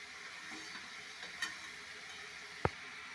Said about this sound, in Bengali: যতক্ষণ না মাংসের থেকে তেল ছাড়ছে ততক্ষণ আমরা ভালো করে কষে কাষে নেব